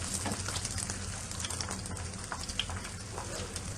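Brik pastry filled with tuna and egg frying in hot oil, giving a steady, close crackling sizzle with small pops throughout and no voices.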